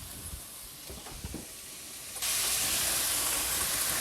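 Carrots and mixed vegetables sautéing in a pot for Caribbean seasoned rice, a steady loud sizzle and hiss that jumps sharply louder partway through and holds, with faint clatter early on.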